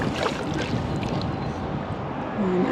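Paddle strokes and water wash around a small boat on a river near Allegheny Islands State Park, a steady close splashing rush with some wind noise and no clear separate strokes.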